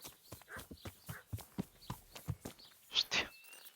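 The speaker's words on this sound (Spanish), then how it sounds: "Ahí está el caballo." A horse in the medieval role-playing game Kingdom Come: Deliverance clip-clops along with steady, close hoofbeats, followed by a brief brighter chirp-like sound near the end.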